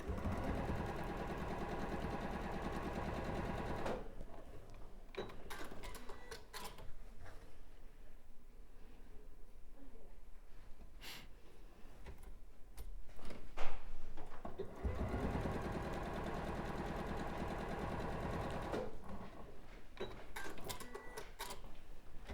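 Close-up sewing machine assembling quilt rows, running in steady rapid bursts at the start and again near the end, with a quieter stretch in between broken by clicks and handling noises.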